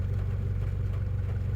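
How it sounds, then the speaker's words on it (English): A swapped-in Honda B16 engine runs with a steady, low, pulsing idle, close and even throughout, with no voices over it. "Right when we got the engine in, it fired right up."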